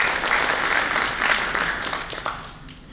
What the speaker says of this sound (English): So a round of applause for all of you for preserving the tradition.